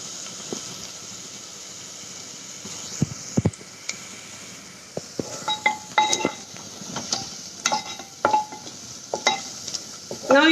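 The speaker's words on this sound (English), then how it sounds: "Now you can see our onions are getting fried." Onions frying in a pan in a home kitchen, a soft continuous sizzle broken by sharp clinks and scrapes of a spoon stirring against the metal pan, growing busier toward the end.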